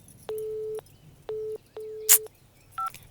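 A telephone call gets a busy signal: three evenly spaced steady beeps, a brief burst of noise, then a couple of higher dialing tones near the end.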